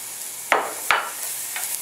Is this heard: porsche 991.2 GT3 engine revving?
no